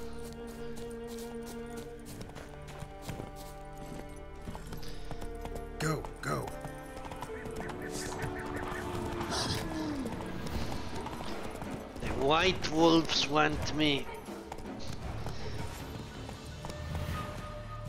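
A horse in The Witcher 3 video game clip-clops along at a gallop, its hoofbeats running steadily, with a whinny partway through, someone talking over it, and game music in the background.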